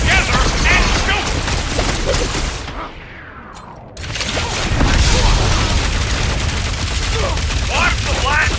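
Blaster fire in Marvel's Guardians of the Galaxy during a combat fight: dense, loud volleys of energy shots and booms, a brief drop to a muffled whoosh in the middle, then the barrage resumes at full force, with voices mixed in.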